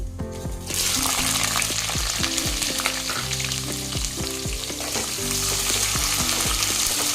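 Onions frying with cardamom and fennel in a hot pan, a loud steady sizzle that starts abruptly and carries on throughout, with occasional stirring clinks and no talking.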